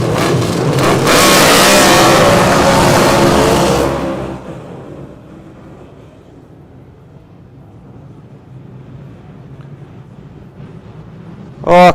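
Stock cars racing at Otago speedway, a loud, dense engine roar for about four seconds that then drops away to a distant low rumble.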